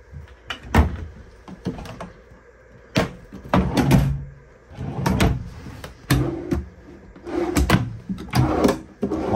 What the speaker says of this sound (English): Lots of storage space, all kinds of drawers here.